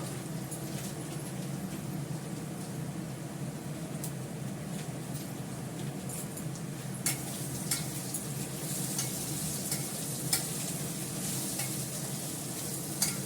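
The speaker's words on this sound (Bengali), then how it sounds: "এটাকে ভালো করে কষিয়ে আমি মাংসটা দিয়ে দেবো" Spices with turmeric, dried chilli and Kashmiri chilli powder fry steadily in a pan with a continuous close sizzle, broken by scraping stirs that grow more frequent toward the end, with no talking.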